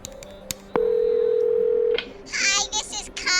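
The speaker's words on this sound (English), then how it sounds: "She hangs up the phone, picks it up again, and begins to dial Valdivian headquarters." Phone in an audio drama: a couple of clicks, then a steady dial tone of about a second, followed by a quick run of dialing beeps and tones.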